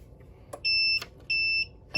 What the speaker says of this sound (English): Nice little beep.